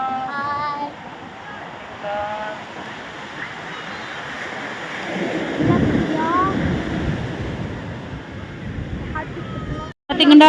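Evening at a seaside beach: a steady wash of ocean surf and wind buffeting the microphone, with faint voices and a child's call drifting over the rolling noise.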